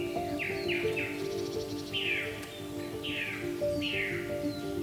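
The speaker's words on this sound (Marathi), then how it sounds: "असंख्य पक्ष्यांचे आवाज कानावर पडत होते." Many forest birds call at once in a Konkan forest: repeated descending whistles ring out again and again over a steady backdrop of other calls and buzzing.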